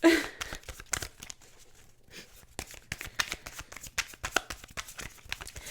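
Tarot card deck being shuffled by hand: repeated crisp riffling and flicking bursts, close and fairly soft, with short pauses between, no speech.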